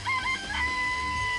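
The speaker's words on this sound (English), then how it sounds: "I remember there were some chickens in the chicken coop." Chickens in a coop in Danganronpa: Trigger Happy Havoc give a loud, drawn-out crowing cluck, the high tones wavering and then holding steady over a soft low background hum.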